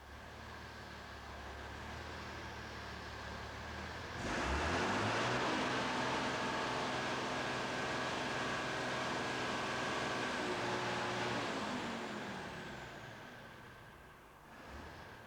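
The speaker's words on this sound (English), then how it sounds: "Run the engine and ensure that its operation is to standard at both high and low idling" An 1980s Case / David Brown tractor engine runs steadily at idle, a continuous low mechanical drone that swells louder after a few seconds, holds, then eases off near the end, with no voices.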